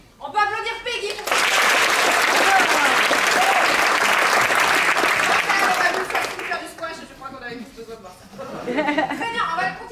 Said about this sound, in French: On peut applaudir Peggy pour ça.